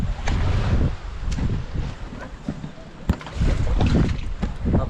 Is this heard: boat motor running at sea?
yes